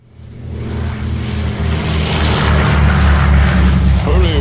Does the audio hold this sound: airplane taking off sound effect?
yes